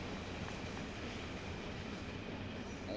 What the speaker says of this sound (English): A Metro North Railroad train